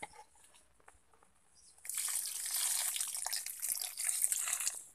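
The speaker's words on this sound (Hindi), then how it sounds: "इसमें पानी डाल देंगे।" Water pours into a potted snake plant, an indoor plant, starting after a quiet moment and continuing as a steady hissing splash, close and moderately loud, with no talk.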